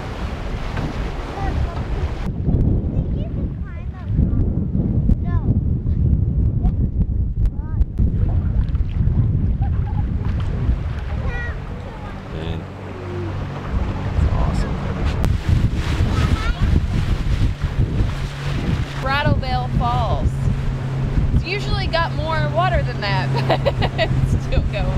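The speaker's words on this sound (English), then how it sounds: "I think the wind's picking up a little bit too" Wind gusting over open water on a boat trip among rocks and an archway in Michigan, buffeting the microphone with a steady roar and wave wash, while people talk intermittently throughout.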